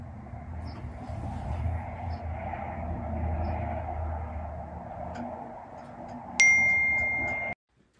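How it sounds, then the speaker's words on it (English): A phone's text message notification rings out as a single bright electronic tone lasting about a second over a steady low rumble of background noise, then everything cuts to silence. "they will receive a text message notification"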